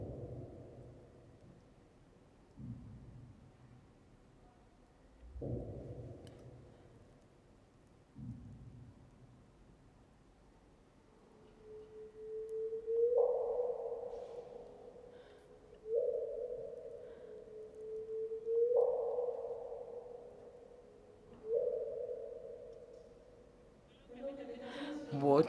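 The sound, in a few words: gravitational wave chirp of two colliding black holes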